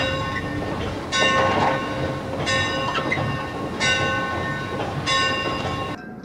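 Locomotive horns and whistles, from rope-pulled brass and EMD air-activated steel to electronic types, sound in four long harmonic blasts over a rolling train rumble, each blast roughly a second long and separated by short gaps.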